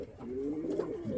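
Pigeons in a breeding loft give a soft, close coo, a brief low throaty call rising and falling over about a second, fairly quiet.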